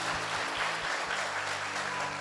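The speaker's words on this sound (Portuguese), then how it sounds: "Gostaria de pedir uma salva de palmas para a vida do Cristo" A church audience applauds for a couple of seconds, a dense steady wash of clapping with no voices over it.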